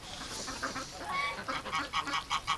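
Geese on a winter farm honk repeatedly in a quick, uneven series, faint and somewhat distant against a hissy outdoor background, with no talking.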